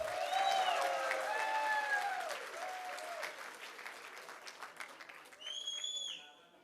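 Audience applause at a wedding reception, a steady wash of clapping that fades gradually, with tonal music or voices sounding over it and a brief rise near the end.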